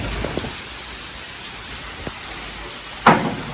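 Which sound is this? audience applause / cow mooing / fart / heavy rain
heavy rain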